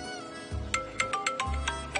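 A mobile phone ringtone plays a short bright melodic phrase of repeated chiming notes over a low hum, close and clear, with no talk.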